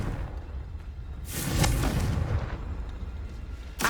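The Confringo spell from Hogwarts Legacy erupts in a loud explosive burst about halfway through, a broad crackling blast that decays over a second, with another sharp hit right at the end.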